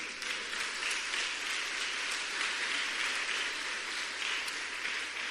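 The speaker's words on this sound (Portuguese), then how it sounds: "Diga amém e aplauda a palavra de Deus." A church congregation applauds together after a prayer, a steady, even wash of many hands clapping at moderate distance with no voices over it.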